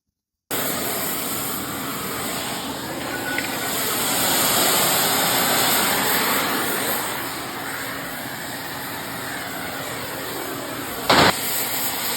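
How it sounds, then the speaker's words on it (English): Torches heating the end of a steel rail on a flatbed being built for a Ford F-550 cab and chassis give a steady, loud roaring hiss that swells gently midway, with a brief sharp clank near the end. "Here we are heating up the end of the rev rail with the torches"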